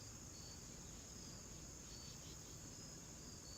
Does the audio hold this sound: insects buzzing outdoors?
yes